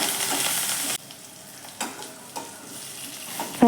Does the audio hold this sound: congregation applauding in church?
no